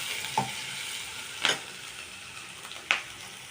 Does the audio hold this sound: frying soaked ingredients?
yes